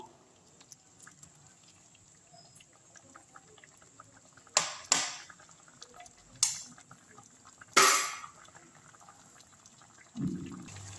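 Spoon scraping and clinking against a pan as sugar syrup is stirred, a few sharp strokes over a quiet simmering background.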